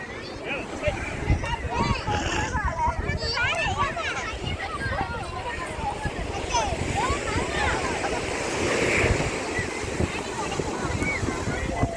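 Ocean surf at Shankhumugham Beach in Trivandrum, a steady close wash of breaking waves with wind buffeting the microphone, while people talk over it throughout.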